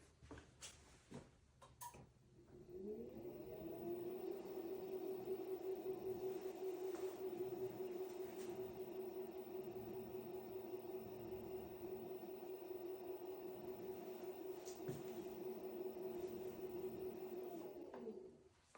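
A BTH BP02NA potter's wheel motor spins up to full speed and holds a steady, faint hum with a whirring tone for about fifteen seconds, after a few light clicks, then winds down.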